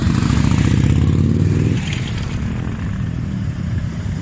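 Small motorcycles passing close by on a busy road, engines loud and steady for the first couple of seconds, then a lower, fading rumble as they move off with traffic noise continuing.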